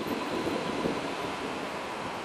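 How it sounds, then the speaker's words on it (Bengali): A brand-new train hauled by locomotive number 30300, on a new Jalpaiguri–Sealdah service, pulls into the station with a steady, broad rumble and hiss, with no distinct horn. "এই মুহূর্তে ঢুকছে আমাদের নতুন ট্রেন"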